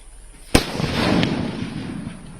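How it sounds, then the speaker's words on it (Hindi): Firecrackers set off by a forest department team in a village to scare off wolves: one sharp loud bang, then a second fainter pop, both echoing over a hissing background. "भेड़ियों को पकड़ने के इस ऑपरेशन में वन विभाग की टीम पटाखे भी छोड़ रही है"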